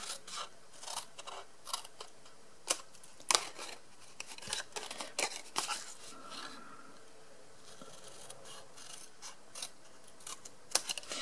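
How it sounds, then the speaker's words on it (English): Scissors snip through the top edge of a score line on a craft box, giving a series of short, crisp cutting and rasping sounds with irregular rhythm, fairly close and moderately quiet. "So effectively I'm cutting off the score line, or at least the top of the top edge of the score line."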